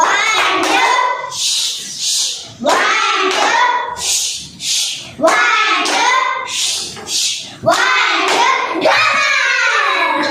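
A class of young children do a rocket clap together, their voices rising in chanted bursts between rhythmic rounds of hand clapping, loud and close in a classroom.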